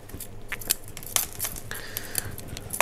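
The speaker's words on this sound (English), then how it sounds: "I'm going to cut off as much of those old roots as I can" Repeated sharp snipping of scissors cutting through old Miltoniopsis orchid roots during repotting, irregular clicks and crunches close by.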